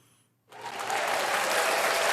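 Applause from a podcast studio group that bursts in after a short silence, then holds as a dense, even wash of many clapping hands, close and steady to the end.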